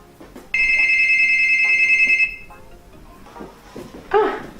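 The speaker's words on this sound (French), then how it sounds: "Ah, quelqu'un sonne." Doorbell ringing in a home, a single bright sustained electronic chime lasting about two seconds, followed by people talking.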